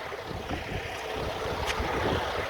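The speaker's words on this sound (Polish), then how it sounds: "Patrzcie jak wieje." Strong wind gusts roar outdoors beside a flatbed truck and trailer in the United States, a broad rushing buffet against the microphone that builds steadily over two and a half seconds with no talk.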